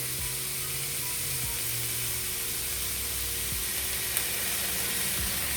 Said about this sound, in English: we're going to let that saute until it's translucent